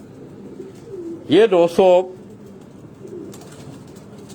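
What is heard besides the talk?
pigeons cooing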